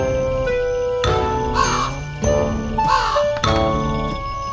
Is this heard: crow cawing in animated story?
yes